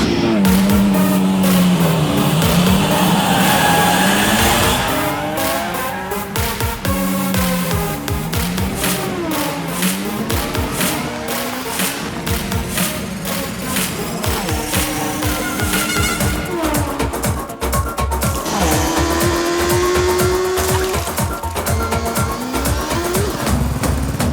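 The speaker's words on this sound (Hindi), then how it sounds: "अब शुरू होगी असली रेस, बस देखते जाओ रंगीला।" Race cars roar and accelerate through a movie race scene, engines revving up and down with squealing tires and skids, loud and continuous, layered with dramatic background music.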